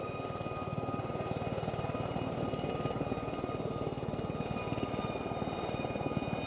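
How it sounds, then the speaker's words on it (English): Gazelle helicopters flying at an RAF Waddington airshow give a steady, loud rotor chop with a continuous engine whine, held evenly throughout without any talking. "So actually these helicopters are flying in that wind"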